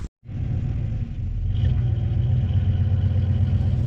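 A 1986 Chevy Caprice engine cranking over after a battery jump, a brief pause then a continuous low, loud rumble that holds steady.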